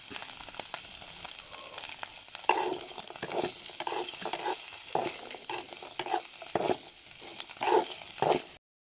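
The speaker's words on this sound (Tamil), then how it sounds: "எண்ணெய் ஊற்றி வெந்தயம் போட்டாச்சு" Fenugreek seeds frying in oil for crab rasam, close steady sizzling with repeated scraping stirs that come in bursts throughout.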